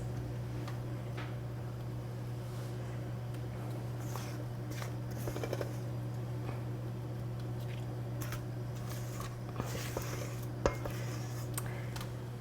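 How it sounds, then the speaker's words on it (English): A spoon scrapes and taps as clafoutis batter is spooned over apples, the soft clinks and dull knocks irregular and faint over a steady low hum. "I'm just going to spoon this on top of the apples"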